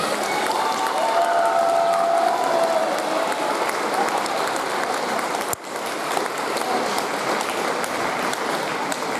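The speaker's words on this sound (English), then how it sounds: "Let's give our 8th grade graduates a round of applause." An audience applauds 8th grade graduates at a diploma ceremony, sustained clapping that stays dense and loud throughout, briefly dipping with a sharp click midway.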